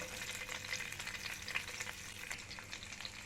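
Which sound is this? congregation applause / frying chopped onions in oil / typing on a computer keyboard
frying chopped onions in oil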